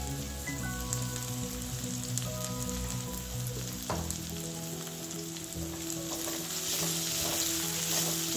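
Green chilli and garlic paste frying in a pan while being stirred, a loud, continuous close sizzle with faint spatula scrapes throughout, no voices.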